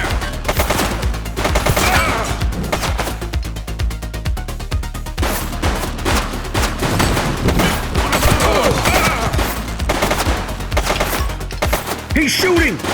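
Rapid bursts of gunfire in the police video game The Precinct, loud and dense throughout, with sharp repeated shots layered over a continuous game soundtrack.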